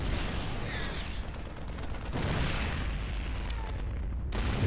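Gunfire from a Terran versus Terran battle in the real-time strategy game StarCraft II, a dense, steady roar of shots and booms blending into continuous battle noise without pause.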